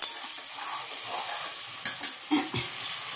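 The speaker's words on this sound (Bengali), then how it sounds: "এই যে এখানে ঝিঙে পোস্তটা রেডি হয়ে গেছে প্রায়" Ridge gourd and poppy seed curry (jhinge posto) cooking down in a pan: a steady close-up sizzle with soft stirring scrapes and a few brief clinks, and no voices.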